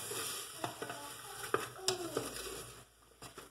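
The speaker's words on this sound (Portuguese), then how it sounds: "E aqui agora eu vou ir fritando a carne até a cebola ficar bem douradinha." Beef and onion fry in a pan with a steady soft sizzle while a utensil stirs and scrapes, giving several light knocks and scrapes close by, with no talking.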